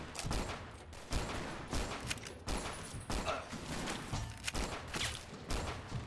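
Rifle gunfire in the video game Fallout: Tale of Two Wastelands, a rapid barrage of loud shots in bursts of overlapping blasts, sustained throughout.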